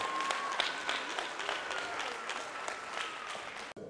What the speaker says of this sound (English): give yourself a round of applause for being here with us